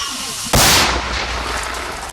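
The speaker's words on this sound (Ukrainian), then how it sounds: "Постріл!" A single loud gunshot cracks out suddenly during combat assault operations near Robotyne, Ukraine, followed by a rolling echo that fades slowly over a second or so.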